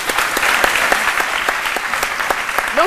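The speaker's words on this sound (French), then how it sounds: "Ben, je crois que ça doit s'applaudir." A studio audience claps steadily with dense, even applause throughout, a continuous bright patter with no voices over it.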